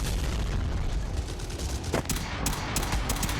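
A grenade blast amid gunfire in Fallout: New Vegas, a dense, loud wash of shooting and rumbling explosion that runs throughout with a few sharper cracks near the end.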